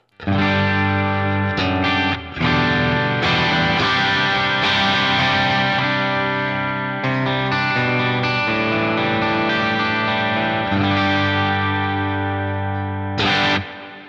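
A Mooer MMT 100FR Floyd Rose electric guitar on its bridge pickup plays heavily distorted chords and riffs through a Quad Cortex JCM 800 amp rig, loud and sustained, with brief gaps between phrases.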